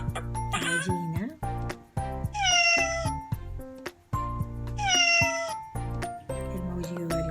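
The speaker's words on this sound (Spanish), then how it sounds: "el maullido del gato." A cat meows several times, drawn-out and wavering, with a couple of louder, higher cries standing out, heard up close without talking.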